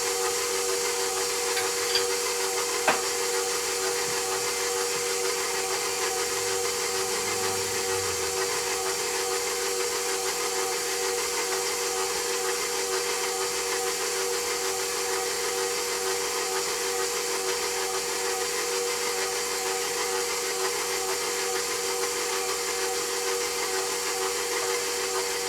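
A vintage kitchen stand mixer runs steadily, blending dry ingredients for challah dough, a continuous motor whir with a tonal hum that stays even and unbroken throughout.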